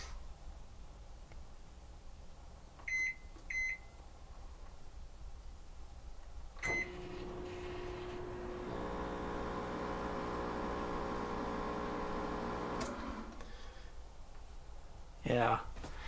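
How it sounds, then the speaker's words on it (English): A Sunbeam 1500 watt microwave powered by a Bluetti AC70 power station beeps a few times, then hums steadily for several seconds before cutting out, fairly faint, with a louder clunk near the end. "So here we go, Sunbeam microwave, kind of standard 1500 watt microwave."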